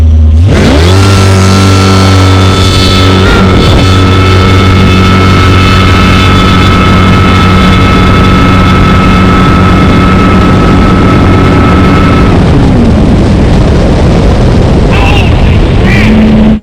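A powerful jet boat engine roars loudly and climbs steadily in pitch as it accelerates, then settles into a rough rumble with wind noise.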